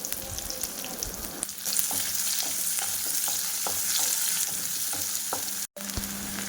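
Sliced onion frying in a pan for tomato rice: a loud, continuous close sizzle with scattered spatula clicks, broken by one very short dropout near the end.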